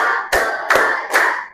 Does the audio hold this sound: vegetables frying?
no